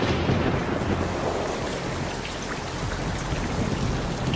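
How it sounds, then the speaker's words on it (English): Heavy rain pours steadily with a deep rumble of thunder underneath, a dense, continuous storm wash standing in for methane rain falling on Titan. "it rains methane."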